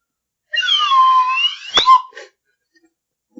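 A person's voice imitates a robot talking, a single wavering, whistly electronic-style wail lasting about a second and a half, ending in a short breathy burst, close and alone with no other talk.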